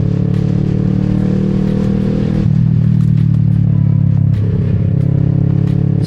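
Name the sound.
Kawasaki Z650 parallel twin motorcycle engine while riding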